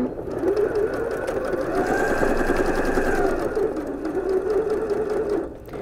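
A sewing machine stitches along the inner fold of an apron hem, a steady, close, continuous motor whir with a rapid needle rhythm that runs the whole time and eases off right at the end.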